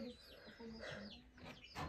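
Chickens cluck and squawk in a coop, close and busy calls overlapping one another, with a voice talking faintly underneath.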